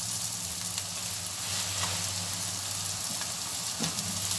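Garlic drops into a pan of frying onions, giving a steady close sizzle with faint crackles and pops throughout, no voices over it.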